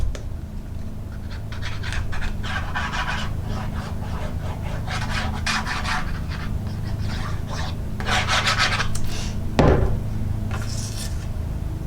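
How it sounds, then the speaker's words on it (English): A hand rubs firmly across the back of a stamped paper card, producing repeated dry scraping strokes, close and fairly loud, with a sharper knock near the end. "I always like to rub the back of my card so I don't smear everything that I've done"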